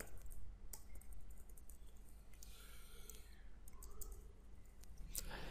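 Fingers tap quickly on a computer keyboard while coding jQuery, a string of faint, close clicks over a quiet background hum.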